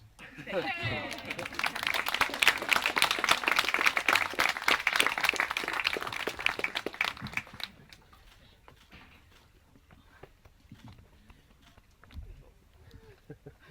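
Warm applause from wedding guests after a speech, a dense wash of clapping for about seven seconds that then thins to scattered claps and faint murmuring chatter.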